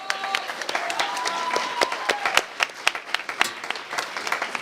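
An audience at a parliamentary-style debate final bursts into sustained applause for the participants, dense clapping filling the room for several seconds with a few voices mixed in.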